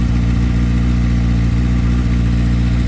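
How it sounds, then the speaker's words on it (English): A 2024 Kawasaki ZX-6R 636 with an Arrow slip-on muffler runs with a deep, steady rumble and throaty exhaust, holding a constant drone for the whole stretch without pauses. "Teach you how to fucking rev the exhaust."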